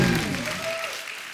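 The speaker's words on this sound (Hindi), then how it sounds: "एक बार जोरदार तालियां अमित जी के लिए, सुरेश जी के लिए" An audience claps loudly for guests Amit and Suresh at a Hindi event, a brief dense burst of applause that starts strong and begins to taper.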